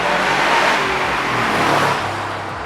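A first-generation Subaru Impreza WRX STI engine revs hard and loud from inside the car, a sustained roaring drone that holds strong before gradually easing off.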